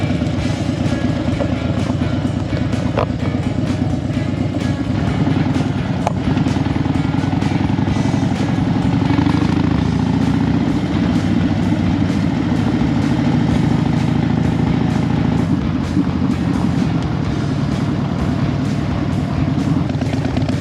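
Harley-Davidson motorcycle engine rumbling steadily while riding a forest dirt road in the Australian bush, a loud, continuous low drone with wind and rough-surface rattle and no talk.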